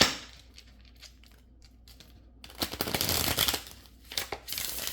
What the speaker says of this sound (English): When you shuffle real good, that's how you break them in.